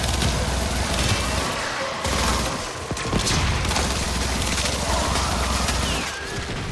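Turret fire in the game Warframe, dense rapid bursts of gunfire with booms and impacts layered over a busy, loud battle din, continuing almost without pause.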